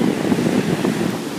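Big surf at El Porto beach, Manhattan Beach, rushes and churns in a steady close roar of breaking water mixed with wind buffeting the microphone, no voices.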